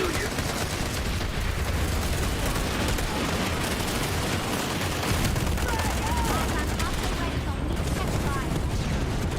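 Sustained hip-fired gunfire in the online shooter PlanetSide 2 forms a dense, loud, unbroken barrage of rapid shots and blasts lasting the whole stretch, with no pauses.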